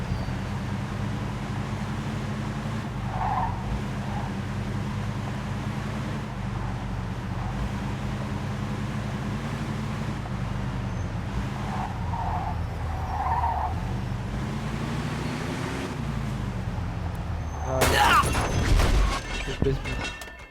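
A car in the video game Mafia 2 revs and drives with a steady engine drone that rises and falls, then ends in a loud burst of tire skidding and screeching, under occasional talk.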